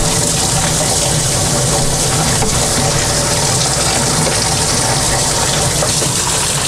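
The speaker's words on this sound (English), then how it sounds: "now we got water flowing through it" Water rushes steadily through an aquarium hose used while cleaning dirty sponge filters, a loud continuous broadband gush with a low churning rumble and no pauses.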